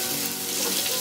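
Panch phoron spices hit hot oil in a pan alongside a hilsa fish head, crackling and sizzling loudly and densely in one continuous close burst.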